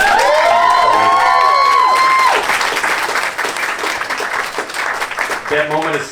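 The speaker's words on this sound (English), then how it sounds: "One more applause for this." A pin-up pageant crowd in Stevens Point, Wisconsin, bursts into loud cheering and whistling over clapping, then the applause continues steadily before a voice speaks near the end.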